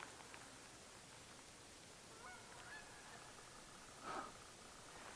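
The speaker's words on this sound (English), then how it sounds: "but there's some geese" Geese honk faintly in the distance, with one brief call rising above a steady outdoor hiss at a riverside campsite with a tent.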